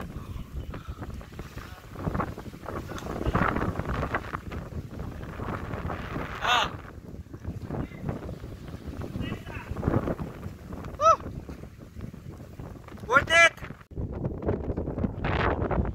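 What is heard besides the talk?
strong wind near sea cave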